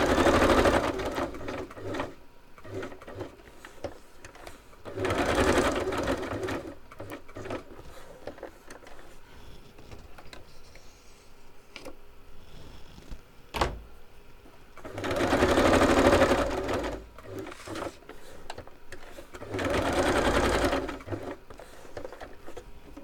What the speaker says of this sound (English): I won't bring the sewing machine on screen.